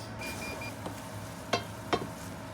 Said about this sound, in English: So now we add the cut shrimps, and they should cook just like 2 minutes